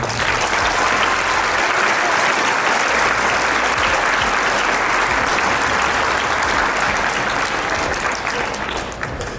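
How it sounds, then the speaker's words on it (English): Audience applause fills a hall at a talk about being fired, homeless and finding purpose, a loud, dense, steady wash of clapping that runs unbroken for the whole stretch and fades slightly at the end. "Come on, clap that up, man."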